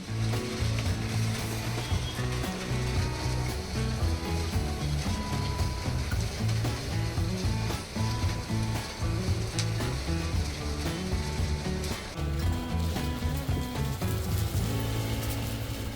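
Rice frying in a large pan while being made into puffed rice, giving a dense, continuous sizzle and rattling hiss with low rumbling underneath, steady and close throughout.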